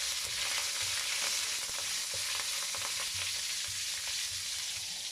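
Curry leaves fry in hot oil while being stirred, giving a dense steady sizzle with rapid crackles and occasional soft scraping, heard close and alone.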